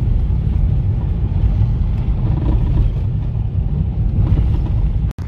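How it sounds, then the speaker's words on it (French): Rumbling 4x4 vehicles pass on a rally track at the Bandama Rally in Côte d'Ivoire, a loud steady engine roar with wind buffeting the microphone that cuts off abruptly at the end. "Tiens, il y a des 4x4 qui passent par là"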